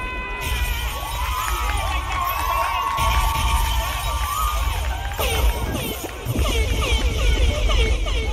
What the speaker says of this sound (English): Another round of applause for that wonderful, wonderful production.